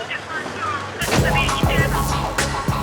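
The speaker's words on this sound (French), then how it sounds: "les policiers essuient des tirs importants de feux d'artifice" Fireworks fired at police in a Paris street go off as repeated loud, sharp bangs after a quieter second, with several blasts in quick succession echoing between buildings.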